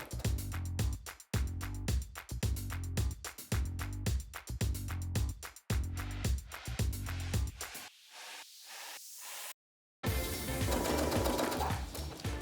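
A sewing machine stitching around a satin bonnet circle, loud rapid mechanical chatter in repeated bursts with brief pauses, then stopping before a short hissy rustle.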